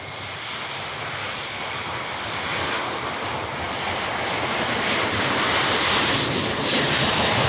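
An Embraer C-390 Millennium military transport aircraft starting its takeoff roll at an airshow, a loud, broad jet engine roar that builds steadily over several seconds, with no talk over it.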